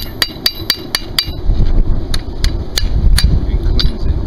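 A blacksmith hammering a horseshoe, a string of sharp ringing metal strikes at a steady pace, near and loud, over a low rumbling background.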